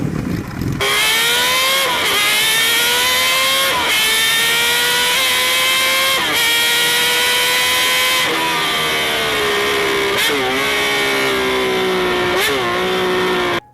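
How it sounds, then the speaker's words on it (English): A late-1970s straight six-cylinder motorcycle engine revs repeatedly, its smooth high-pitched wail climbing and dropping in several strong pulls, close and loud with no talking. "This is a straight 6-cylinder motorcycle that sounds basically like an F1 car."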